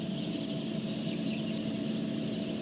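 Andijan black chicks, about two weeks old, in a new warm brooder, a soft continuous chorus of peeping and clucking under a steady background hum, no talking.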